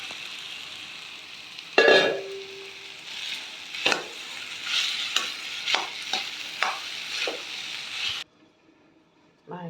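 Cooked rice is stirred into a mango and coconut tempering in a pan, giving a string of scraping, scooping strokes with a faint sizzle underneath, then falling silent near the end.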